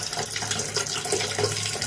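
Water runs steadily from an opened sink tap with the household supply shut off at the main, a continuous close hiss and splash with no voices.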